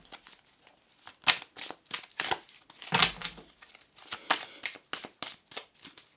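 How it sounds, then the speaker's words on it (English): A deck of tarot or oracle cards being shuffled up close, a steady run of crisp riffling flutters and soft slaps with a brief thicker thump midway. "let's just take this deck here and do 3 more cards"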